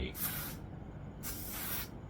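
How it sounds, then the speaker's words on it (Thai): KA UV Extreme Protection sunscreen spray misted onto the face and neck in two short, close hissing bursts separated by a brief pause. "แล้วก็ค่อยสเปรย์แบบนี้ ให้ทั่วใบหน้าลำคอ"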